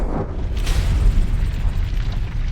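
A deep, rumbling explosion effect stands in for the planet Venus blowing apart, a heavy low boom that swells and rolls on for a couple of seconds with no other sounds.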